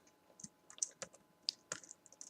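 Keystrokes on a computer keyboard, a run of light, sharp clicks at an uneven typing rhythm, close and fairly quiet, with no talk.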